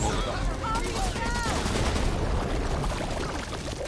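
Video game gunfire in a co-op shooter, a dense, continuous crackle of rapid shots with chirping effects, close and loud, with voices faintly mixed in.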